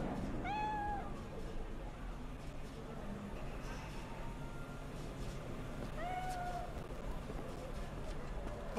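Two separate meows from a cat in the game Cyberpunk, one near the start and another several seconds later, each short and clear above a constant hum of ambient game noise.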